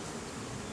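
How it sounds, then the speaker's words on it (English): Honeybees hum during a beehive inspection, a dense, steady buzz filling the brief moment from close by. "There's a bee right there."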